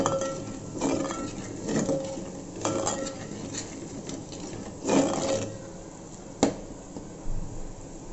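Spices are stirred and fried in a pan, heard mostly as intermittent metallic clinks and scrapes of a utensil against the pan over a quiet background, with one sharper knock.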